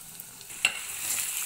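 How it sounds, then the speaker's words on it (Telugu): Prawns frying in a pan for a ridge gourd and prawn curry, a soft continuous sizzle with one brief knock of a lid or utensil, the hiss swelling slightly toward the end. "చూడండి, బాగా ఫ్రై అయిపోతున్నాయి"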